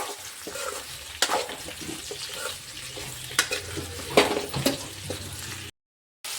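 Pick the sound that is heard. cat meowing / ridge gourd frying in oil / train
ridge gourd frying in oil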